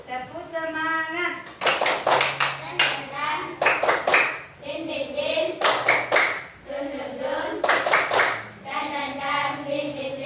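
Children clapping out the tepuk semangat spirit clap in quick rhythmic bursts, broken up by their chanted voices and an adult leading, with sharp hand claps in repeated patterned groups.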